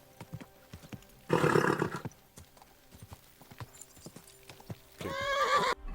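Horse hooves clip-clop in a steady sparse rhythm in Kingdom Come Deliverance II, broken by two loud drawn-out whinnies, one early and one near the end, close and clear.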